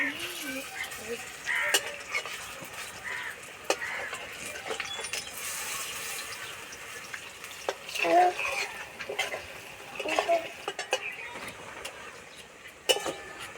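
Radish pakoras fry in a pan with a soft, faint sizzle, broken by scattered clinks and scrapes of a utensil stirring against the pan.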